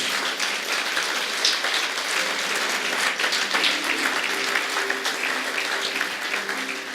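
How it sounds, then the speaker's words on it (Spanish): A church congregation applauds steadily and fairly loudly during a Spanish-language sermon, the dense clapping continuing without a break, with a faint tonal hum underneath. "Aplausos, fiesta."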